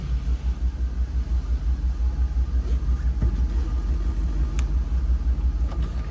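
A 1975 Pontiac Grandville pulling out, its big engine giving a low, steady rumble close by with a faint pulsing throb and a few small clicks and knocks, no voices.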